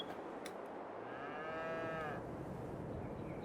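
Cow in Farming Simulator 22 letting out a single drawn-out moo in the middle of a steady hiss of farm ambience, fairly faint and alone without voices.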